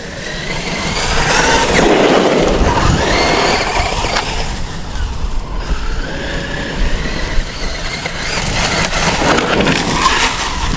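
A Traxxas UDR radio-controlled truck drives steadily, its motor a continuous loud whirring rumble with rattling, fluctuating slightly over about ten seconds; no voices.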